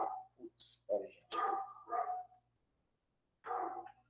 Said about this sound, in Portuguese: Cachorrada.